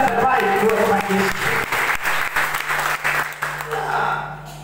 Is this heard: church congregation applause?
yes